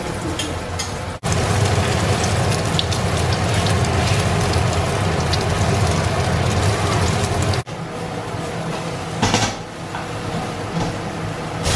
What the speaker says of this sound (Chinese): 婆婆丁煎鸡蛋。